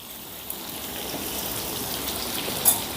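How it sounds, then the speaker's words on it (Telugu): Bitter gourd slices frying in hot oil on a high flame, a steady close sizzling hiss that builds slightly, with a brief louder crackle near the end. "ఇప్పుడు ఈ కాకరకాయల్ని స్టవ్ను హై ఫ్లేమ్లో పెట్టుకొని గోల్డెన్ కలర్ వచ్చేంత వరకు ఫ్రై చేసుకుందాం"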